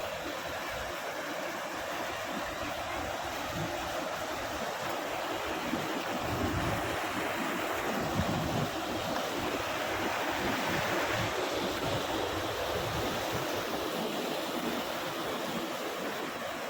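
Loud, steady rushing of river water flowing at a checkdam in Wayanad fills the scene, with gusts of wind buffeting the microphone throughout. No voices.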